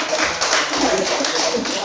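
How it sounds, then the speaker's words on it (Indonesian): Applause in a classroom, a dense patter of many hands clapping close by, steady and fairly loud for the whole short stretch, with faint voices mixed underneath. "Tepuk tangan."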